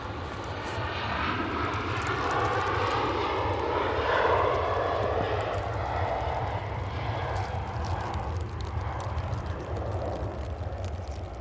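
Broad, steady jet roar from a Ryanair airliner passing at Manchester Airport, loud and close, swelling midway and then easing slightly, with sharp clicks scattered over it.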